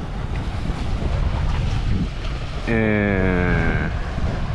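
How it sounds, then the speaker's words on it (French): A motorboat passes close to an anchored sailboat at sea, its steady engine drone rising over wind buffeting and lapping waves in the second half. "il y a beaucoup de bateaux moteurs hein, qui nous font des vagues, hein, comme celui-là qui passe"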